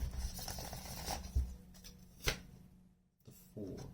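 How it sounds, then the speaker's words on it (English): Tarot cards being shuffled close up, with soft papery riffles and taps, a couple of sharper snaps of cards, then a brief quiet gap before another burst of shuffling near the end. "One more shuffle."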